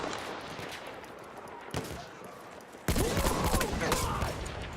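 Rifle fire in the video game Battlefield 1, a rapid crackling burst of gunshots with a dense louder volley near the end, busy battlefield noise throughout.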